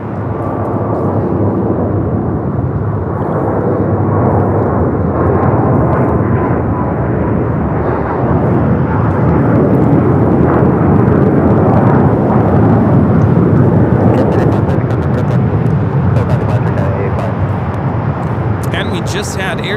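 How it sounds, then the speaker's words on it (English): A Cathay Pacific Boeing 777-300ER jet at LAX roars loud and steady, a broad sustained engine rumble that swells and holds throughout with no voices. "Cathay heading back to Hong Kong at 777-300 ER."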